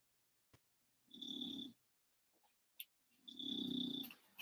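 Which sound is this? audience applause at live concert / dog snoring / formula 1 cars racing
dog snoring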